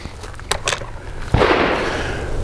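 A single loud, bassy shot from a Tisas PX-9 Gen 3 pistol cracks at an outdoor range after a couple of faint clicks, followed by a rumbling echo that slowly fades.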